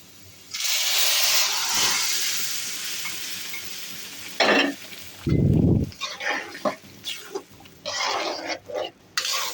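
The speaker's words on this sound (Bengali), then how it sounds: "এখন আমি বাগার দিয়ে দেবো ডালটা।" Hot oil with dried red chillies, garlic and chopped onion poured into lentil dal as a tempering gives a loud, sudden sizzling hiss that fades, followed by a burst of steam and several short scraping stirs.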